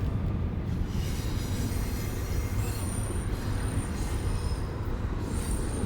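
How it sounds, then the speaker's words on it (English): A train rumbles past close by a former Arizona prison site, wheels grinding on the rails with a thin high metallic squeal drifting in and out over the steady roar. "You can hear the trains going by too."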